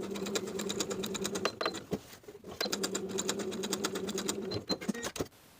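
A sewing machine stitching a 3/8 inch seam on a midi skirt with a flounce, two fast whirring runs of rapid needle strokes broken by a short pause, then a few brief bursts, close and clear.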